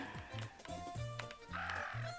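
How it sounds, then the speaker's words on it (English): A cartoonish bird in a video game gives repeated short clucking, squawking calls in a quick uneven rhythm, mixed with game sounds and music at a moderate level. "It's just like a bird."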